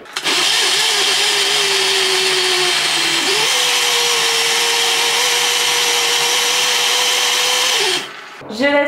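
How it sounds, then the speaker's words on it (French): A blender purees vegetable soup with crème fraîche and nutmeg, a loud steady whine that holds for about eight seconds with a brief dip in pitch partway, then cuts off with some clattering. "Je vais mixer."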